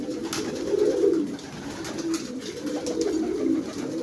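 Pigeons coo in soft, repeated low rolling calls, close and clear, in overlapping phrases with faint background ambience.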